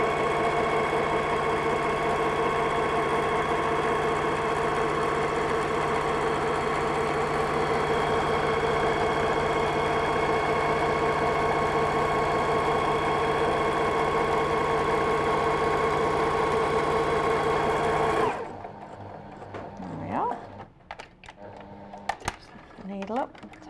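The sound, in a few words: sewing machine stitching the side seams of a dress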